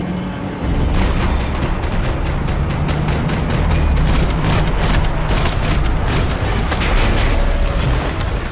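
Sustained gunfire from the video game Max Payne 3, dense rapid shots and booming blasts rattling continuously at loud volume throughout, with no voices over it.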